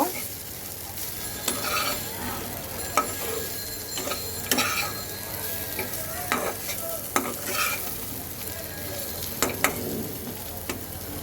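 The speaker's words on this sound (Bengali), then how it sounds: "মশলাটাকে আমি কয়েক মিনিট তেলে ভেজে নেব" A spice paste for a Bengali pabda fish curry with potato and lentil bori fries in oil, giving a continuous close sizzle with regular scraping strokes of a spatula stirring the pan.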